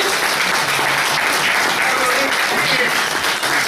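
A crowd applauds a singer after a Paraguayan-style performance, with thick, continuous clapping that stays loud and even for several seconds, alone without speech.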